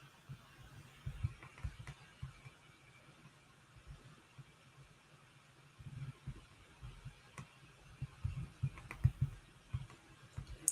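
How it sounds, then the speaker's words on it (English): Computer keyboard typing at a trading desk, scattered soft key clicks in short bursts, fairly close and quiet, with a low engine-like rumble in the background. "I'm typing these TPs up."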